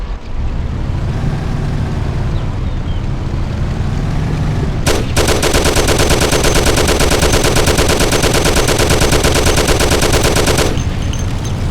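Thompson submachine gun fire in the Mafia video game: a long, loud, continuous automatic burst lasting about six seconds, rising over an earlier stretch of steady engine and road rumble.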